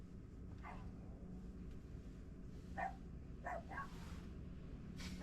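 A small dog yips and barks a few times at a passing Waymo driverless car on a street, short sharp bursts spaced over a few seconds above steady road and traffic noise.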